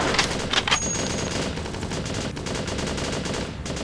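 Sniper rifle shots fire in the mobile game Sniper 3D Assassin, a few sharp reports early on over a steady bed of game background noise.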